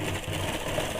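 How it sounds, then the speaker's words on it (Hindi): Electric sewing machine running steadily while stitching a round seam along a ladies' scarf, a continuous close mechanical hum with no talk. "इसी तरह से मैं पूरे में गोलाई में सिलाई चला लूँगी।"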